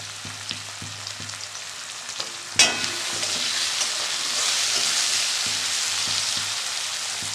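Chopped onion and potato with salt fry in a pan. Light scraping taps from stirring come first, then one sharp clatter, and after that the sizzle swells into a louder, steady hiss.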